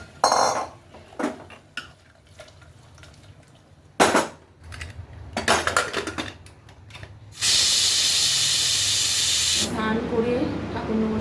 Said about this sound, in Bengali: জল দিয়ে দিলাম তিন চারটে সিটি মারবো ব্যাস স্টু রেডি